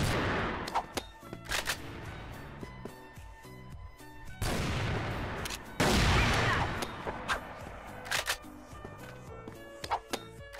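Dragunov sniper rifle fire in the shooter game CrossFire: loud, sharp shots and short bursts over a steady din of game action, with scattered clicks and impacts between them.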